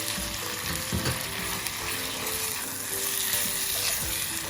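Chopped tomatoes frying in a pan with ground red chili and salt for a spicy tomato chutney, a steady dense sizzle that stays even and close throughout, with no voices.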